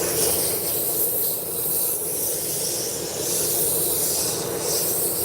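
Wood lathe running wide open at 3,500 RPM while turning and sanding a drop spindle, giving a steady, loud rushing hiss and rubbing whir with no pauses.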